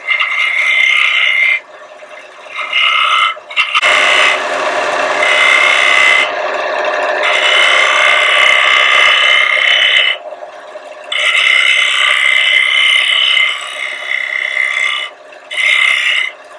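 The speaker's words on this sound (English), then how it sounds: "I'm using the side of the diamond point tool as a scraper." A diamond point tool used on its side as a scraper works a wooden box under a handle, producing repeated rasping strokes in bursts separated by short pauses, close and fairly loud.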